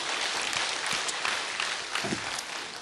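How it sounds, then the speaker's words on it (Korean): Audience applause of thanks at a church forum during a regional presbytery evangelism camp in Busan: a dense, steady wash of many hands clapping, close and loud throughout, with no speech over it. "우리 같이 한번 감사의 박수 한번 쳤으면 좋겠습니다"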